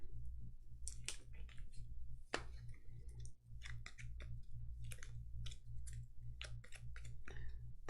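Game cards from a Gloomhaven Jaws of the Lion board game session get shuffled by hand. Quick irregular riffling clicks and soft flaps come in bursts over a low steady hum, faint and close, with no talking.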